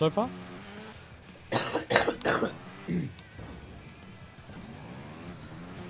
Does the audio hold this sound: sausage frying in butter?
no